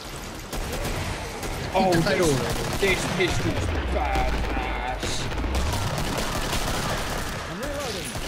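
Pistol shots ring out in a Killing Floor co-op match, a quick run of sharp reports mixed with game noise while someone talks over them.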